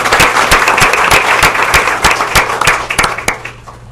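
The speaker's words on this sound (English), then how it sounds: "So let's give them another round of applause." Board of education meeting attendees applaud close by, the crowd's clapping led by a few loud, rhythmic near claps, tapering off toward the end.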